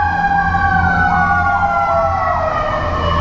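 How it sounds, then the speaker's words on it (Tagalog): A loud ambulance siren wails continuously with overlapping rising and falling tones, over the low rumble of a heavy engine nearby. "may ambulansya."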